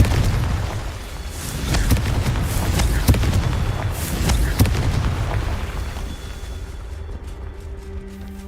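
Confringo spell blasts in the video game Hogwarts Legacy, a series of sharp booming explosions and bursts in quick succession over a rumbling game soundscape, close and loud.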